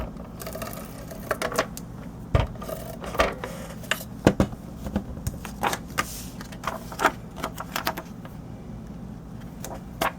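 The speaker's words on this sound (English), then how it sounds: "I'm going to go all the way around the edges with my tape runner" A tape runner rolled along the edges of a paper greeting card, heard as short clicking, ratcheting strokes and light taps at close range, coming in irregular bursts over a faint room hum with no talk.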